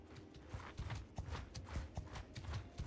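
Horse hooves clip-clop in steady, close rhythmic steps in Bannerlord with the Realm of Thrones mod, loud and continuous with no talking.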